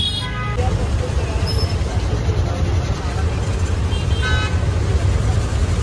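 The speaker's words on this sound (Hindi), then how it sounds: "और काफ़ी ट्रैफिक है।" Busy city road traffic on a crowded street near a cricket stadium in Ahmedabad, with car and bus engines rumbling and several horns tooting, heard close under someone talking and background crowd chatter.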